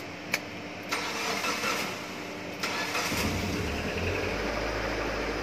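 A Mitsubishi Lancer engine cranks with sharp starter clicks, then catches and settles into a steady, fairly loud idle with a low rumble, recorded close by with no talk.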